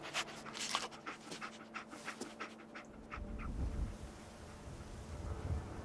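In the video game Fallout 4, the dog companion pants in rapid, breathy bursts close by, then a low windy rumble of the game environment swells up and masks the panting.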